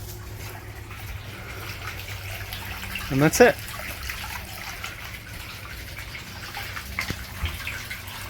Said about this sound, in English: So that's enough to keep the water circulating and you won't get any mosquitoes.